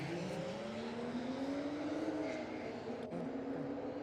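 A BMW 1 Series racing a 3 Series down the strip at a Sydney drag and burnout night, with a steady loud engine drone whose pitch rises and then falls as the cars pull away.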